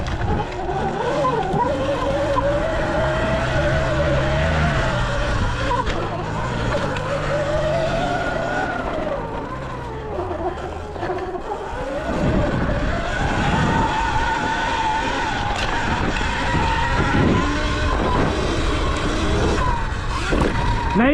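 A Surron Light Bee X electric dirt bike tears around a dirt turn track, its motor whining steadily and rising and falling with the throttle, with rough tyre scrabbling and skids throughout.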